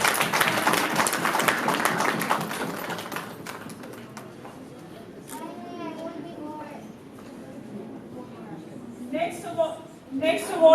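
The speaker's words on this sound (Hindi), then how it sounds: "एक बार जबरदस्त तालियां" Audience applause at a women's awards ceremony, a dense burst of clapping for the first few seconds that thins and fades, followed by a host speaking over scattered claps.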